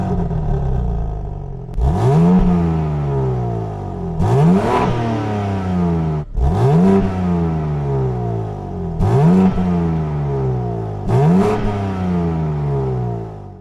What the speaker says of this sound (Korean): 자, 이렇게 시동 거는 소리 그리고 배기음 이렇게 한번 같이 들어보게 되었는데요